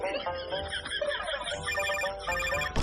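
A telephone ringtone plays through an unanswered call, its repeating electronic tones steady and fairly close over a soft background murmur.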